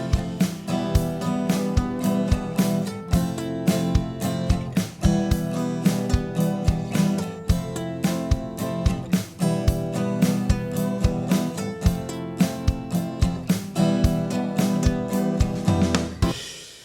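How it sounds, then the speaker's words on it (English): Pre-recorded acoustic drum groove from the GarageBand iOS Virtual Drummer, playing steady, loud kick, snare and cymbal hits in a driving repeating pattern for the whole stretch. "an audio track pre-made for you with drums on it"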